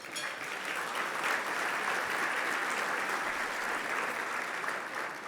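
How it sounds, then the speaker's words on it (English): Luncheon guests at a winter meeting clap for the event's sponsors, giving a sustained, even round of applause from a large room that holds at a steady level throughout. "Please give them all a round of applause."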